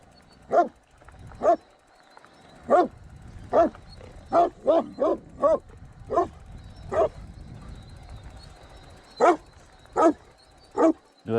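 Dogs bark in loud, sharp bursts, about a dozen in irregular clusters, over a low background rumble outdoors in the Sierra Nevada.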